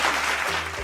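Brief burst of clapping as a reward for a correct answer in a children's alphabet lesson, a short dense patter of applause lasting under a second.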